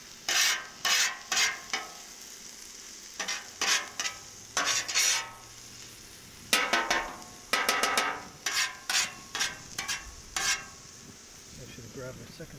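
Metal spatulas scrape and clack in quick rhythmic bursts on a hot griddle, mixing mushrooms, ham and peppers, with a soft sizzle underneath and no talking.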